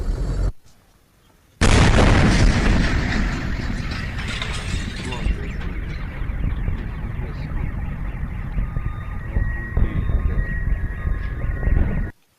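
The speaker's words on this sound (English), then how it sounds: "those sounds, those explosions were the meteor exploding" A meteor explodes in the sky: a sudden, massive roaring blast bursts in after a brief silence, then a sustained rumbling, crackling din of explosions rolls on loudly for about ten seconds.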